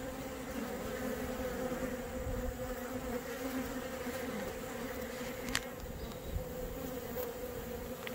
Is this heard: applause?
no